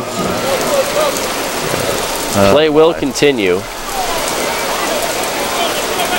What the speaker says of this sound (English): the rain picks up now a little bit